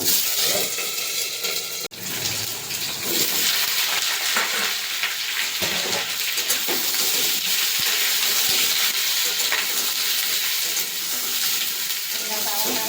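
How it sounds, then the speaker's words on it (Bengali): Chopped green tomatoes frying in hot oil with black mustard seeds, a loud continuous sizzle with crackling spatter that holds steady throughout, close up and with no talking. "কেটে ধুয়ে রাখা কাঁচা টমেটোগুলো দিয়ে দেবো তেলে"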